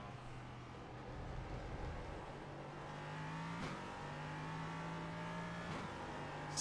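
Race car engine held at full throttle in a racing game at Phillip Island, a steady droning whine that rises slowly in pitch, heard faintly at low level with a couple of brief clicks.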